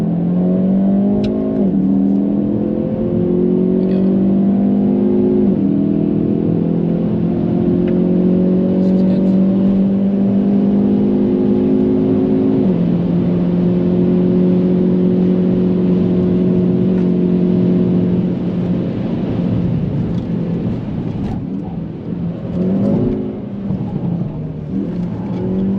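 A Hyundai i30N DCT engine at full throttle on the Nürburgring, revving steadily upward through the gears with a loud, sustained roar heard close up.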